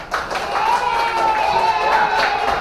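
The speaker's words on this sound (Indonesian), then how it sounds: "tepuk tangan untuk kita semua" A class of students claps hands together during a morning lesson, a short burst of clapping that is mixed with voices and a sustained tone in the room.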